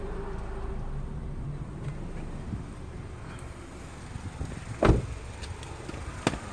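A car idles in drive with the parking brake set and its wheels spinning, a steady low engine rumble throughout, broken near the end by a couple of brief sharp knocks or clicks.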